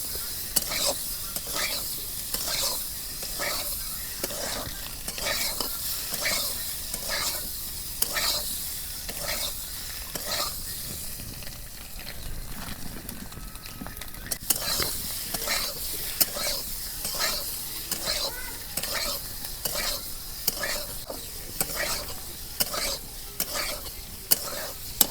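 Eggs fry in a pan for an egg biryani, with a steady sizzle and regular scraping strokes of a spatula stirring them, close and continuous throughout with no talking.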